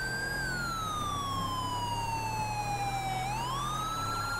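A police car siren in the LSPDFR video game, a Charger patrol car, wails steadily and loudly throughout, its pitch sweeping slowly down and then back up over a low engine drone.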